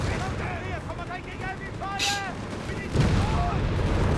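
Tank and anti-tank cannon fire in the real-time strategy game Company of Heroes 3, with booming shots and explosions under constant battle noise and someone commentating over it.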